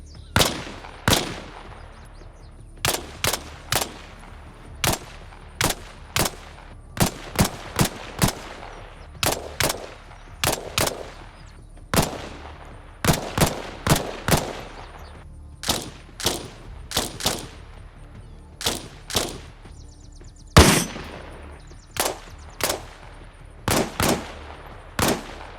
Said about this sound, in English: Each weapon has its own sound, both with and without a suppressor